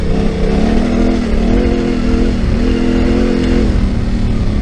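Motorcycle engine, a Yamaha T7 or Kawasaki KLR, holds a steady loud drone with small rising and falling rev swells, close and continuous under wind rush, with no talk.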